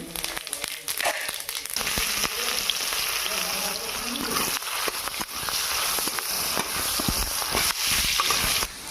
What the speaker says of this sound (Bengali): এবার ওই তেলেই আমি দিয়ে দেবো গোটা জিরে